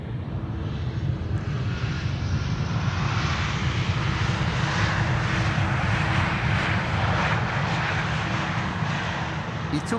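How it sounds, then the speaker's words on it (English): An Embraer 195 E2 airliner arriving at Amsterdam Schiphol Airport gives a steady, loud broadband engine roar that holds for the whole stretch without fading, with a voice talking over it. "E2 Embraer 195 with a spacious carrying cabin"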